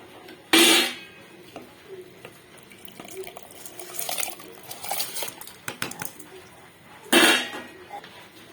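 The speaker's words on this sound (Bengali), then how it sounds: "এখন আমি এই চাল ডালটা এই গরম জলের মধ্যে দিয়ে দেব" Washed rice and lentils tip into a pot of hot water for khichuri, a loud metal clatter and splash near the start, then softer clinks and stirring, and another sharp clatter near the end.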